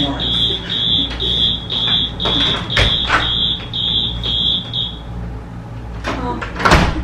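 A fake fire alarm beeps in a rapid regular series of shrill pulses for about five seconds during a prank on a mother, with door bumps and knocks underneath and a loud thud near the end.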